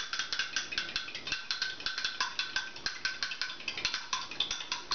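Egg yolks whisked in a bowl: a rapid, steady run of light clicking and tapping strokes against the bowl, close and fairly quiet, with no voices.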